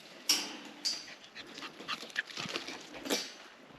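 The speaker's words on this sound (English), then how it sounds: "we take their dogs for a walk." Dogs out on a walk in the Australian countryside pant and whimper close by, with a few sharp yips cutting through steady breathy panting; no one speaks.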